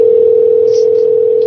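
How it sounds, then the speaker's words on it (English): A steady, loud telephone tone plays while a cell phone call is placed, holding one unbroken pitch throughout with faint higher blips above it. "That's Carole's cell phone I'm calling."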